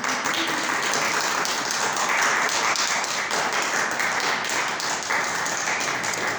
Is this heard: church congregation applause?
yes